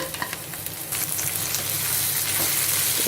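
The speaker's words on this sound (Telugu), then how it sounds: "వీటిని ఈ ఉల్లిపాయలతో పాటు ఇలా కలుపుకుంటూ ఫ్రై చేసేసుకోవాలి" Chopped cluster beans stir-frying with onions in a hot pan, a steady dense sizzle with scraping stirs throughout, getting slightly louder partway in; no talking.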